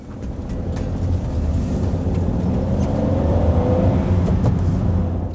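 Small Suzuki Celerio three-cylinder petrol hatchback with a five-speed manual gearbox, accelerating steadily with a continuous engine drone and road noise throughout, rising slightly in pitch toward the end.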